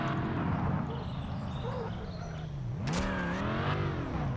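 Car engine revving and accelerating in a Ford vs Chevy off-road racing video game, a loud close drone that dips and then climbs steeply in pitch as the engine speeds up.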